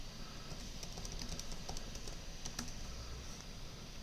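Soft, rapid computer keyboard typing, a short run of light key clicks entering a password over a steady faint background hum.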